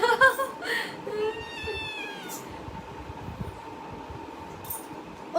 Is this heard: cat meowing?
yes